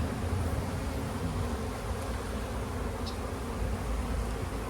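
Honey bees from a package or nuc colony hum steadily over a frame of capped brood, a dense, continuous buzz filling the whole stretch without speech.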